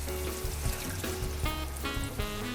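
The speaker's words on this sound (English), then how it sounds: "to that I'm gonna add a little bit of water" Water is poured into a pan of chicken and cherry tomato sauce, a steady splashing trickle over a constant background hiss that thickens into bubbly gurgles toward the end.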